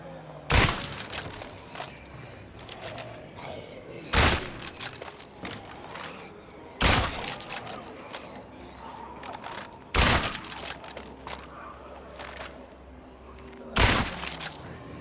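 Weapon fire in the zombie-survival video game State of Decay 2: five sharp, loud single shots spaced a few seconds apart over a busy game soundscape, with faint talk in the background.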